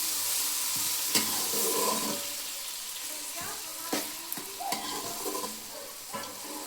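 Tomatoes being stirred into frying brinjal curry: a bright hiss of sizzling fills the background while spoon scrapes and wet stirring strokes come in irregular bursts, close and moderately quiet, with no one speaking.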